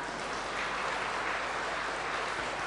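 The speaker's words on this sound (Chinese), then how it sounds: "掌声鼓励一下吧" A small audience at a Buddhist teaching session claps for a sung passage, a soft, steady patter of applause holding for a few seconds.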